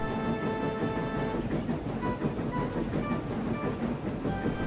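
Duncan the steam engine approaches, a rumbling train sound with rhythmic clattering of wheels on rails and a faint whistle-like tone on top, steady and fairly loud.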